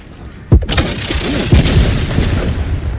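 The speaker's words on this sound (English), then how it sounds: "Wow, that was big boom from the space." A close, heavy boom from an explosion in the video game The Outer Worlds 2, followed by rumbling debris and a second thud over a sustained roar.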